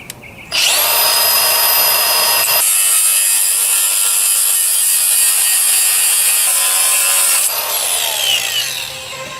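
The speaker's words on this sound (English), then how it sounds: "This is the grinder here because I have no other choice" An angle grinder cuts through an alternator bolt head on a Honda CR-V 2.4, a loud, steady high-pitched whine and grind that runs unbroken for several seconds, close and alone.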